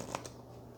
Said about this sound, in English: I've shuffled this deck enough.